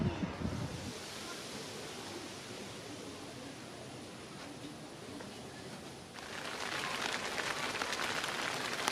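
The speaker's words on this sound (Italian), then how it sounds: "Piove." Dense, even hiss of rain falling steadily on a surface at a campsite in Caorle, growing slightly brighter and louder toward the end.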